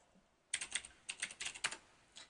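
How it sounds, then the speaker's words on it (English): Typing a password on a computer keyboard: a rapid run of a dozen or so close, crisp key clicks after a brief quiet start, ending in a final tap, with no talking. "I'm going to type in a dummy password again, invalid password."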